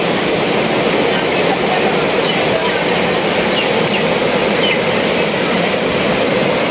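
Steady, loud broadband rushing of a fast-flowing flooded river fills the whole stretch without pause, heard up close.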